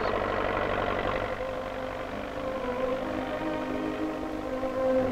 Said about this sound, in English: Tractors draw the fire line plows.